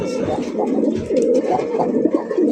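A male fancy pigeon coos steadily at a loft where birds are sold, its low murmuring calls repeating throughout, close by with no talk over it.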